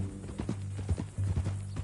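Horse hooves clip-clop at a steady walking rhythm in Red Dead Redemption, the horse a mean-looking new mount. The hoofbeats are close and moderately loud, with some low rumble beneath them.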